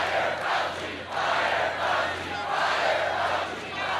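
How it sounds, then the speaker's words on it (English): A large crowd at a US presidential campaign rally chants "Fire Fauci" in unison, rising and falling in repeated loud swells with a steady low hum underneath. "Fire Fauci, the audience cried."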